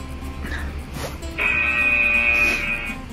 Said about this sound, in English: There goes the timer.